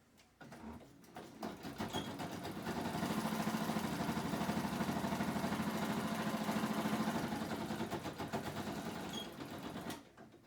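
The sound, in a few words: sewing machine straight stitching a notebook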